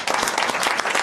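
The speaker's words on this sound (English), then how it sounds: "Let's give them a round of applause, eh?" A brief burst of audience applause at a council meeting, many hands clapping together in a dense, even patter for about a second.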